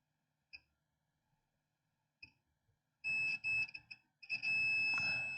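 A multimeter beeps in continuity mode as probes touch test points on a dead Core i7 Acer laptop motherboard under repair: two short faint chirps, then a longer, louder stretch of tone broken into bursts.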